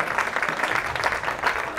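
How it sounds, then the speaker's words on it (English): Applause from the crowd at a high school boys soccer senior night, a brief, moderately distant burst of clapping. "Finally, one more round of applause for this group of 15 young men."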